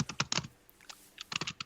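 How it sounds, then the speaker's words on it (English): Someone types on a computer keyboard in quick uneven bursts of clacking keystrokes, close and fairly quiet, with a short pause in the middle and no talking. "I'm sorry, who's typing?"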